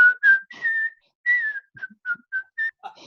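A person whistles a tune nearby in short, clear melodic phrases broken by brief pauses, with no one talking.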